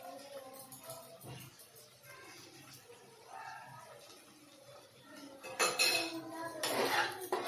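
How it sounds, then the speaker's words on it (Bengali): A spoon stirs soy sauce into paneer in a pan for chilli paneer, giving quiet clinks and scrapes that swell into louder metallic rattling toward the end, with no one talking. "সয়া সসটা একটু নেড়ে নিলাম,"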